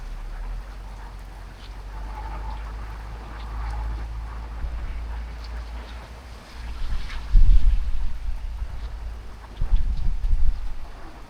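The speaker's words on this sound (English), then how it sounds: "I can hear them all not coping with the amount of rainfall and overflowing" Heavy thunderstorm rain pours over overflowing gutters in a continuous rushing roar, swelling into louder gusting surges in the second half.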